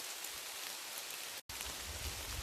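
Steady rain falling in woodland along a Snowdonia mine trail, a dense even hiss of drops that cuts out for an instant midway and resumes, with no talk.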